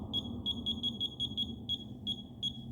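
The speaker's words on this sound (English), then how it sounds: "I wonder if there's a way to turn the beeping off." A high electronic beep from a function generator repeats in quick irregular bursts, clear and piercing over a low background hum.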